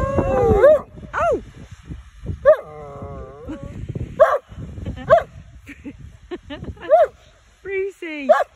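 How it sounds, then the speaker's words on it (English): A dog playing with a stick gives repeated high whimpers and sharp yips, close and loud, spaced through the clip with a person talking between them. "Are you crazy, dog?"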